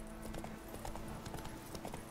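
Horse hooves clip-clop steadily at a riding pace in The Witcher 3, a continuous rhythmic patter of hoofbeats over a soft ambient game background, with no talk.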